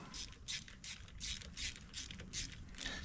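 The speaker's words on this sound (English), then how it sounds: "get all 3 of our bolts tight." Steady rapid ratchet clicking in regular bursts while tightening crank trigger bracket bolts during a Holley EFI 12-1 crank trigger install, close and fairly quiet with no talk.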